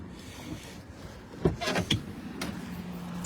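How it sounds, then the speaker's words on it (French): A car being shut up after a workday, power windows closing with motor whirs and a couple of sharp clunks over a quiet background. "je vais refermer la voiture"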